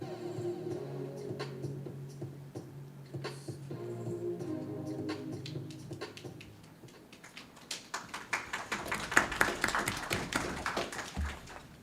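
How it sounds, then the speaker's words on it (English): An audience at a Millville city work session bursts into applause: scattered claps build into dense, lively clapping that fills the room for several seconds after a stretch of quieter murmur. "Thank you for that applause."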